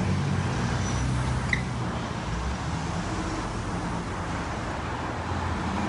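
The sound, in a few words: traffic at a busy intersection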